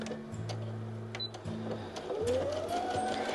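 A sewing machine stitches a quilting seam in short bursts of steady humming motor whir broken by brief pauses, fairly quiet and close, with no talk over it.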